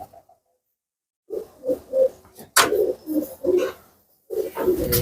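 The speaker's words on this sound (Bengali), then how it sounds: "এটা গিরিবাজ পায়রা, এনে ডিমে তা দিচ্ছে।" A Giribaz pigeon sitting on its eggs gives a series of soft, close coos in short rhythmic bursts, with a brief rustle partway through and quiet gaps between the phrases.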